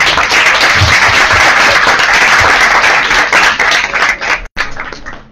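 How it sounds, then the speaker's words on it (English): An audience breaks into sustained, loud applause for a guest professor, a dense wash of clapping filling the room from start to finish, with one brief dip near the end. "I'd ask you one big applause for our Professor Szabó"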